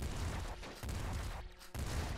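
The Skullbreaker weapon fires in the video game Nuclear Throne Ultra Mod, giving a few heavy bursting blasts separated by brief gaps.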